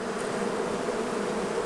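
A thick, even buzz of many honey bees fills a beehive during the honey flow, a constant close-up drone with no talking.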